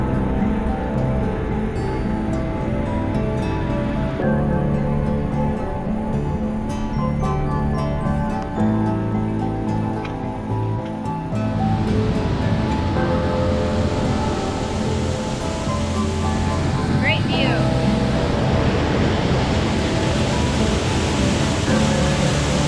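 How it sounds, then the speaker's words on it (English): A waterfall swollen by heavy rain gushes in England's Lake District, a steady, dense roar of rushing water that fills the scene without pause, loud and close, with no voices over it. "Honestly, I think with all the rain that we've been getting here, this thing is gushing."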